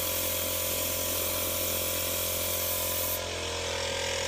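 An airbrush sprays alcohol ink in a steady, continuous hiss close to the microphone, softening slightly near the end as the spray eases off.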